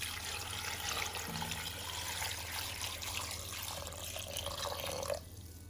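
Water, 1.5 liters poured into a pot for chicken stock, runs steadily with a broad splashing rush that stops abruptly near the end, leaving a quieter background hum.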